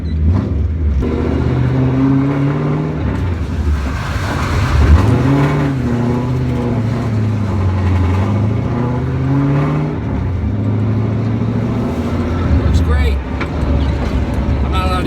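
An older drift car with a homemade e-brake does donuts, its engine droning and revving in rising and falling sweeps for about fifteen seconds, close and loud, with a person talking over it.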